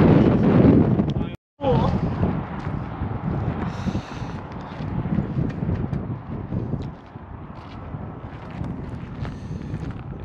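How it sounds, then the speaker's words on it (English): Strong wind buffets the microphone outdoors during a stop on the Hot Rod Power Tour 2024 road drive, a steady low rumble with a brief dropout, and a person talks over it. "And it is really windy."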